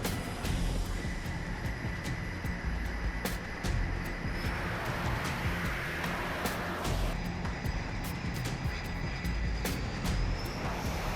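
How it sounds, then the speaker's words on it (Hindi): American military aircraft flying overhead make a faint, continuous, distant drone that stays steady throughout, with a few small clicks. "आसमान में मंडराते अमेरिकी विमानों की हल्की आवाज हर दिन उन्हें याद दिलाती है"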